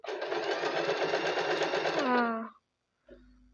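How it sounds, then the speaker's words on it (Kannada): Sewing machine stitching a buttonhole, running in a fast continuous mechanical buzz that stops abruptly, followed by a soft click after a brief silence. "4ಗೆ ಹಾಕಿ ಮೇಲೆ ಲ್ಯಾಪ್ ಸ್ಟಿಚ್ನ ಹಾಕಬೇಕು"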